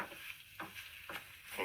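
El Paso taco sauce is stirred in a pan, with a faint sizzle and three soft scraping strokes at regular intervals.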